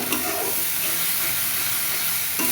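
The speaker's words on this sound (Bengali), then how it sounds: "মশলাটা কষায় নিব।" Masala spices with chili powder stir-fry in a hot pan, a close, continuous hissing sizzle with soft stirring scrapes, ending in a brief louder burst.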